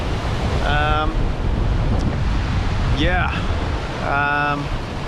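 Ocean waves and strong wind rush continuously around a Gunboat 68 catamaran sailing offshore, loud and close, with a few short tonal voice-like calls standing out above the roar.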